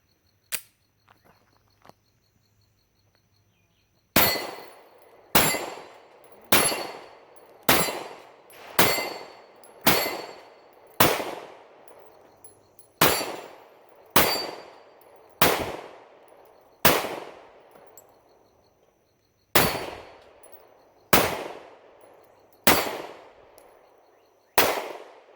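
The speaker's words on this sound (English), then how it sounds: "Almost cleared the plates. Pretty accurate little gun." A Ruger SR9C compact 9mm pistol fires at steel plates on an outdoor range: sharp, loud single shots with ringing decay, about sixteen in a steady rhythm of roughly one per second, with two brief pauses between strings.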